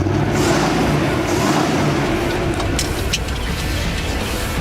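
Rebuilt Holden Monaro with a 307 V8, idling with a low, steady rumbling burble close by, the engine note continuous throughout with slight variations.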